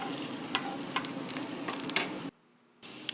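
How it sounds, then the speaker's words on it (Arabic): Chopped celery and ginger sizzle in hot ghee in a pan, a steady close crackle with stirring clicks, briefly cutting out before the frying resumes. "وبالطاوة نجيب سمنة نحمس وياها كرفس مقطع"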